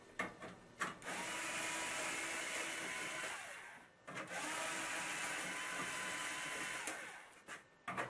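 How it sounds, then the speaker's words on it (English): A power drill removes screws from the control panel of a General Electric washing machine. It makes two sustained close whirring runs of a few seconds each, separated by short pauses and clicks. "To open the controls panel, you will need to remove these 4 screws on top of the controls panel."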